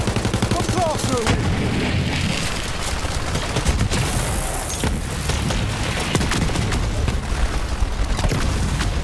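Gunfire in the shooter game Borderlands 3, a dense run of sharp shots and booming impacts layered over game music and effects, loud and continuous throughout.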